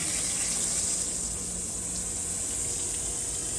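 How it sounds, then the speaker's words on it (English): Water from a hose rinsing through an HVAC condenser coil in place, a steady loud hiss and spray, continuous and close throughout. "it's kind of rinsing out dirty, so I'm going to keep on rinsing"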